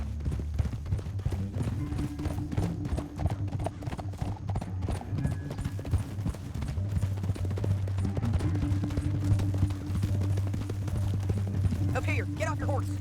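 Horses gallop in Red Dead Redemption 2, a fast continuous clip-clop of hooves close by, with a low rumbling game score underneath and voices talking over it.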